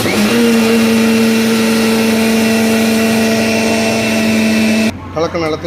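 A mixer grinder blends sweet dosa batter with a loud, steady motor whine that stops near the end, when a voice begins speaking.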